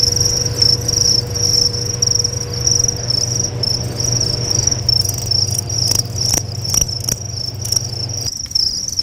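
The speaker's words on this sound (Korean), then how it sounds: "승규 씨에게만 더 특별하게 들리는 귀뚜라미 울음소리" Crickets chirping steadily in a dense, high-pitched trill on an insect farm, close and fairly loud, with a low hum beneath and no voices.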